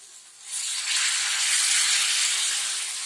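Water poured into a hot pan of sizzling tomato and turmeric tempering for bread upma sets off a loud, steady hiss of steam that swells after a brief quieter start and holds to the end.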